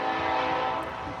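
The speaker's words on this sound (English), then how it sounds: "I did not know there would be a train going right through here" A train passes close by, a loud sustained rumbling roar with a tonal horn-like hum that holds steady and eases slightly toward the end.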